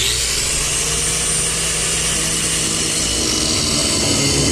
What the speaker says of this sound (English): So I'm gonna just grind these tabs down here.